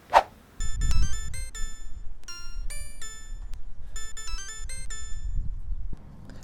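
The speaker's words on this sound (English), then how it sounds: "I better call Tyler." A phone ringtone plays a bright, repeating electronic melody in short bursts, preceded by a single sharp knock, with a low hum underneath.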